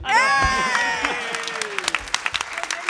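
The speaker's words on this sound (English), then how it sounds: "Big round of applause for our audience members coming to join us." Audience at a live game show at PAX West breaks into applause, starting with a sustained tone then thinning into scattered claps.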